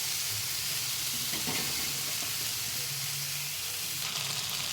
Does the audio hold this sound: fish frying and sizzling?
yes